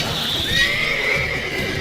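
A horse in the video game Witcher 3 neighs loudly and close by, one drawn-out whinny with faint hoof clip-clop underneath, no voices.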